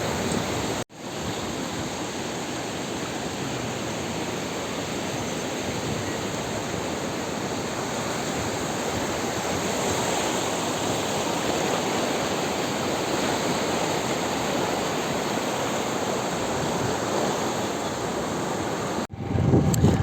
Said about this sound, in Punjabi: ਤੇ ਇਹ ਹੈ ਸਰਸਾ ਨਦੀ, ਪੱਕੀ ਨਦੀ ਜੀ